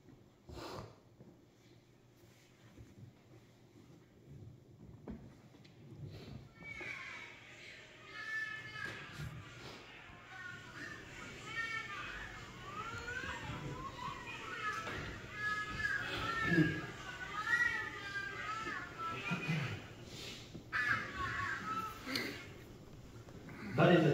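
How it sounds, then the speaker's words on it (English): A recorded child cries and sobs for his mother, with sniffling, wailing and broken vocal sounds rising in intensity, set against faint room noise and occasional shuffling. "A child crying out for his mother."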